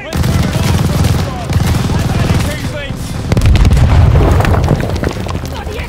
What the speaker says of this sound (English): We need a grenade on the MG!